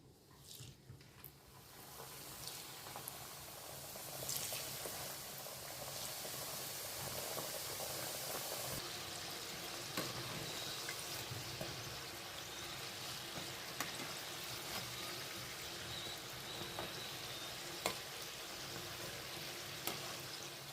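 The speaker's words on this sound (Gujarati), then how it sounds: "ચાલો હવે બાકીના સમોસા તળી લઈએ" Samosas deep frying in hot oil, giving a steady dense sizzle and bubbling hiss that runs throughout with occasional faint clicks, with no voices.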